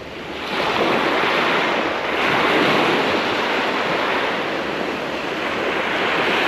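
Waves break and wash steadily along a calm shoreline where someone is fishing with light tackle, a broad continuous surf roar with gentle swells of loudness, close and alone with no voices.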